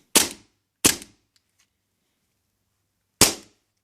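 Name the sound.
Tokyo Marui M9A1 gas airsoft pistol firing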